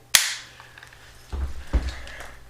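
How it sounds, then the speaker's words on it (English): A single sharp rifle shot cracks right after the trigger is pulled, loud and close, its report decaying over half a second, followed by low thumping handling sounds. "I can take a round and I can feed it through there and pull that trigger"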